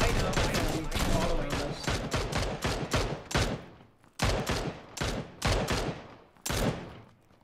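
Rapid bursts of automatic gunfire from the battle-royale shooter PUBG, loud and dense, with repeated volleys broken by short pauses; voices talk faintly underneath.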